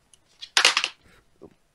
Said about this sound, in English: I just dropped my remote on the keyboard.